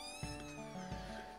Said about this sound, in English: Here's our little kittens.